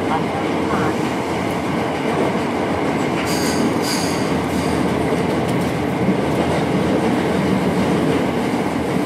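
A Tokyo Metro Ginza Line subway train rumbles into Ginza station with a loud, continuous roar from inside the car, wheel squeal, clicking over the rails, and faint speech in the background.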